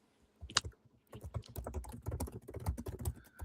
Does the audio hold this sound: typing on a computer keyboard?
yes